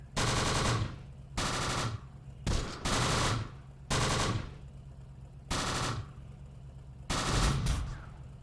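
Repeated machine-gun bursts in the war game Close Combat: The Bloody First, seven or so sharp, loud volleys of rapid fire separated by short pauses, with no talking.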